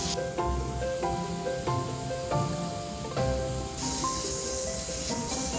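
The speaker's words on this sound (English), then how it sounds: "The pressure of the air coming out of the gun is also important." An air spray gun blasts liquid vinyl into thin flakes of fake tempura, a steady broadband hiss that grows louder and brighter toward the end, under background music.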